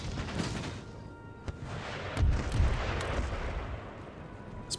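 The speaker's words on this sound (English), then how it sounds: "So all of my howitzers are going to aim at the 12 pounders." Howitzer artillery in the Empire Total War video game, scattered distant booms and cannon thuds rolling across a battlefield, a couple of heavier blasts in the middle, no voices.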